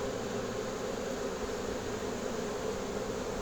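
A swarm of honeybees settling on a new home hums in one steady, dense drone, loud and close, with no pause or voices over it.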